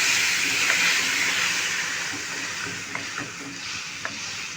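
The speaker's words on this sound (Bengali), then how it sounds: "এটা দিতে দিতেই আমি নাড়বো যাতে না এটাতে জমে যায়।" Warm milk poured into ghee-fried vermicelli (semai) for jaggery payesh while it is stirred: a steady soft hiss and simmering wash with a few faint clinks of the spoon against the pan.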